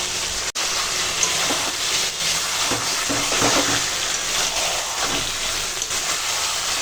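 Chicken sautéing in hot oil with chilli powder, turmeric and salt, a steady loud sizzle with a few scraping stirs and a brief knock, no talk.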